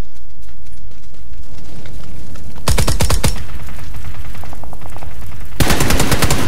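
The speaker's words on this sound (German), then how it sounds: "Ich werde geschossen von oben, aufpassen." Bursts of rapid automatic gunfire from above in PUBG, two loud, close volleys of fast repeated shots separated by quieter ambient game sound.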